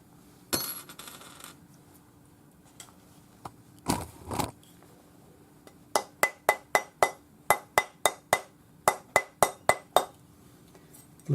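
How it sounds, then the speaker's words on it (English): Rawhide hammer striking soldered silver rings on a steel ring mandrel, a quick run of about fourteen sharp, bright metallic taps in steady rhythm, close and clear, after a few scattered clinks and handling noises. "round them up on the ring mandrel using your rawhide hammer"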